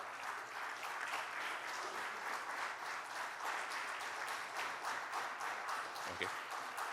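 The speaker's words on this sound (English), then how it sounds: "big round of applause" A conference audience applauds, dense sustained clapping from a large crowd filling the hall evenly throughout, with no voices standing out.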